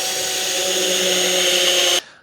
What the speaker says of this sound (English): you want to drill a pilot hole and make sure it goes all the way through this block and all the way through the shelf also